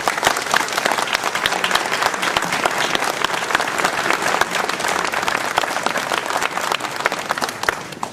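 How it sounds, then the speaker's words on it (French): Audience applause fills a hall at a mayor's New Year address in Ouistreham, steady dense clapping from a large crowd sustained for about eight seconds before easing off at the end. "Je crois qu'on peut l'applaudir."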